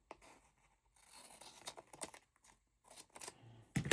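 Scissors cutting masking tape, a series of soft snips and crinkly tape scrapes in uneven bursts, close and fairly quiet, ending in a louder rustle.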